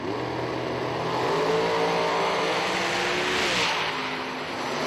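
Dragsters race at a drag strip, giving a loud, continuous engine roar that builds and then shifts pitch near the end as the cars pass. No speech is heard.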